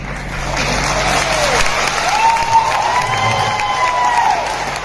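A crowd claps at a Prayagraj (Allahabad) company event, a dense, even wash of applause with faint cheering mixed in, holding steady throughout.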